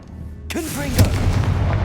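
A Confringo fire spell in the game Hogwarts Legacy lands with a deep booming explosion that rumbles on, with a short spoken voice just over its start and a second thud a moment later.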